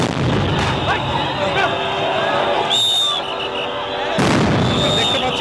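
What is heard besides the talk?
police sound grenades exploding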